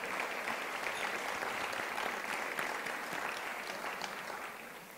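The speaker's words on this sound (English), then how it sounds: "each of you deserves a round of applause for being here" Sustained audience applause at a women's conference luncheon, a dense, steady wash of many hands clapping together from start to finish before easing slightly at the end.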